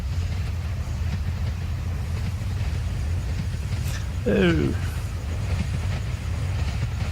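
A train in Farming Simulator 17 rumbles steadily through a low mechanical drone, with a brief rising horn-like tone midway, under a continuous engine bed.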